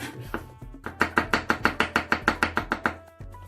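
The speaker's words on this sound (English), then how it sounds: "my garlic is nicely sliced thinly" A knife slices thinly through garlic on a chopping board, giving a quick, steady run of about a dozen crisp taps close by with no talking.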